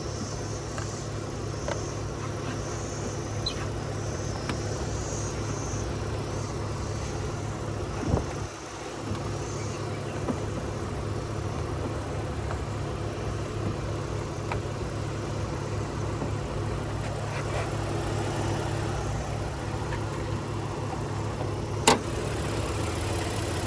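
A Honda Pilot's 3.5-liter V6 engine idles steadily at close range, a low, even hum with faint clicks and little change throughout.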